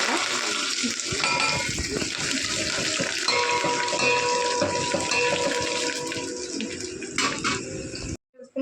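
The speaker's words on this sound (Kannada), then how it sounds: "ಚೆನ್ನಾಗಿ ಫ್ರೈ ಆಗಿದೆ ಇವಾಗ ಕರಿಬೇವೆಲ್ಲ ಹಾಕ್ಕೊಂಡು" Curry leaves sizzle in hot oil for tomato rasam, a close, continuous hiss and crackle that runs steadily and then cuts off abruptly.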